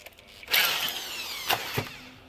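A power drill whines and grinds through metal on a riding mower rear axle for about two seconds, its pitch shifting and surging as it bites, close by.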